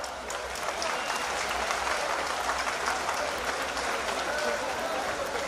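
A large crowd applauds at the opening of a Diwali fair in Lucknow, welcoming chief minister Yogi Adityanath with steady, dense clapping that holds for the whole stretch while a voice carries over it.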